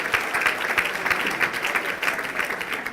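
Audience applause at a mayor's State of the City address, honoring an alderman: a steady, dense wash of many hands clapping, loud and continuous throughout with no speech over it.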